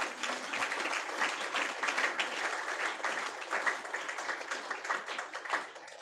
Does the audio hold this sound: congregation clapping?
yes